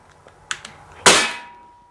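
Daisy Powerline 5170 CO2 BB pistol firing outdoors: small clicks followed by one sharp, loud pop with a short decaying tail.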